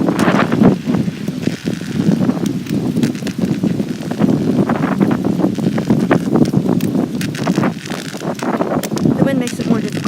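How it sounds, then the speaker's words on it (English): Strong wind roars loudly across the microphone outdoors near a street curb, a constant buffeting rumble that stays heavy throughout, with a voice faintly under it. "I can't really hear much car because the wind is so loud"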